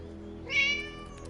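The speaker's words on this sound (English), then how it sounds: "There's a cat. Love this cat." A cat in the video game Vertigo gives a single short, clear meow that rises and falls, standing out against a quiet ambient hum.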